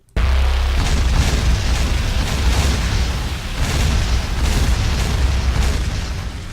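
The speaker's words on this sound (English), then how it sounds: "pretty powerful gun" A powerful gun fires in the video game LoD, one heavy booming blast that rolls on as a loud, sustained rumble.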